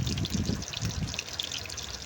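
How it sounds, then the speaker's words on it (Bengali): Chopped onions and green chilies go into hot oil for a bitter gourd dish, a continuous close sizzle and crackle with a low rumbling pour at the start. "এবার আমরা পেঁয়াজ আর কাঁচা ঝালগুলো দিয়ে দিব"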